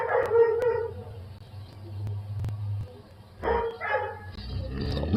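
A husky howls and barks in bursts near the start and again around the middle, fairly close, with short pauses of low background noise between.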